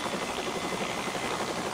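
A training helicopter's engine and rotor roar steadily as power increases for liftoff, a dense continuous whine and wash close by with no talk.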